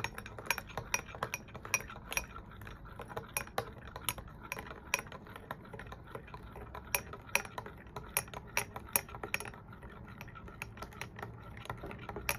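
A metal spoon stirs instant Turkish coffee with hot water in a cup. It makes rapid, repeated light clinks and ticks against the cup, close and crisp, in an irregular rhythm with no speech.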